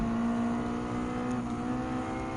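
A race car engine holds a steady high drone at full throttle in Gran Turismo 7, loud and continuous throughout with no talk over it.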